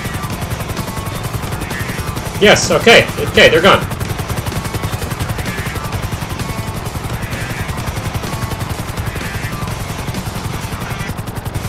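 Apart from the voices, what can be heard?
helicopter in video game GTA 5 Online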